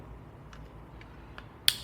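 A sharp, bright metallic click from a dry-fired Zbroyar Z15 AR rifle with a Fostech Echo AR II trigger sounds once, close and crisp, after a few faint ticks in near silence.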